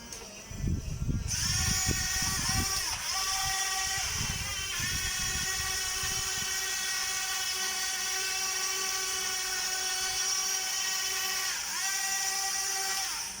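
A Huina 1550 RC excavator, upgraded with metal gears and a 360-degree unlimited swing, whines steadily as its servo motor turns. The sustained electric whir is loud and close, with pitch sliding up and down, and a few low knocks in the opening seconds.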